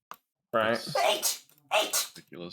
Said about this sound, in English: I call my sneezes a double barrel shotgun